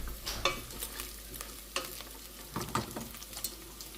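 Carne tostadito sizzles in a frying pan, a soft, quiet crackle broken by sharp ticks and pops and occasional stirring scrapes, with no talk.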